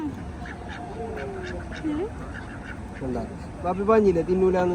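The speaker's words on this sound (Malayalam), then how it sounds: "നല്ല കാണാൻ നല്ല വൃത്തിയുള്ള താറാവുകള്" Ducks quack in short, nasal bursts, several calls overlapping near the end, with light ambient noise throughout.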